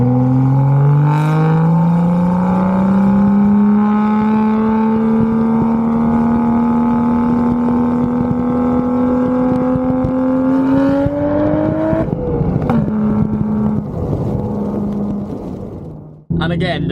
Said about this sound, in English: the bang that this thing makes, combined with the manual transmission on the upshifts, it is unreal